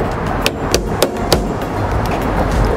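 Nails hammered into a roof batten on a tile roof: four sharp, evenly spaced blows, close and distinct, over steady background noise.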